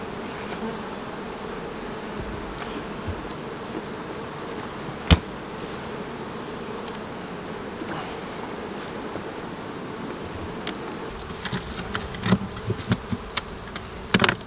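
Honey bees drone steadily around the main beehives, a continuous low insect buzz close by with scattered sharper clicks and knocks toward the end; no one talks.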